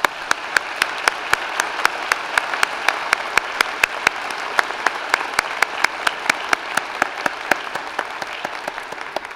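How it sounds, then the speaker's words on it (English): Sustained applause from a convocation ceremony audience, steady dense clapping with sharp individual claps standing out at a regular rhythm, filling the hall without any voices over it. "Please join me now in acknowledging them with a round of applause."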